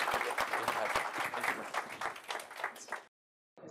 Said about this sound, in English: please, a round of applause for our keynote speakers